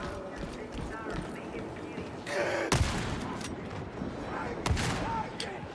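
A shotgun fires in the Warhammer 40,000: Darktide game, with a few loud, sharp blasts spaced seconds apart over busy game noise while a person talks.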